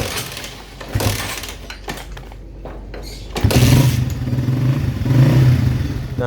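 Honda CB150R motorcycle engine idling, then revved up with the throttle, the engine note rising and staying louder in two sustained pulls, close by.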